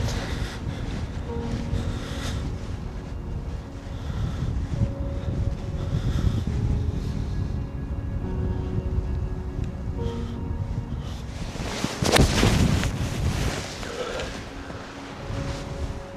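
Wind gusts across an open golf course, a steady rough rushing and buffeting against the microphone, swelling into a sharp loud gust near the end, with no talk.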